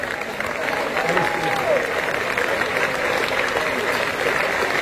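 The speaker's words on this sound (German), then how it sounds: "Das ist Ihr Applaus." Sustained clapping from a small gathering celebrating a woman's upcoming 102nd birthday, close and continuous, with voices talking over it.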